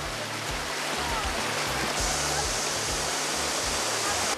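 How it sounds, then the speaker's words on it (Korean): Mountain valley stream in Jirisan rushing over rocks, a loud, dense, steady wash of flowing water with no pauses. "이 물 흐르는 소리가 그 복잡한 생각을 다 씻어가"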